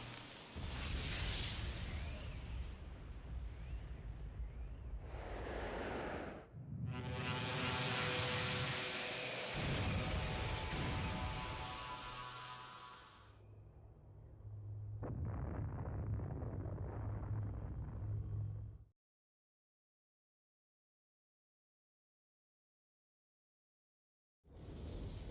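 The Merkava blows apart in Xenogears: a rumbling blast, then a long, loud roaring explosion with crackling debris, further bursts fading out, a stretch of silence, and a brief final rumble.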